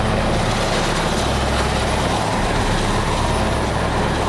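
Firefighting helicopters roar overhead as they battle a blaze on a high-rise plateau, a dense, steady rotor-and-engine drone filling the whole stretch without a break.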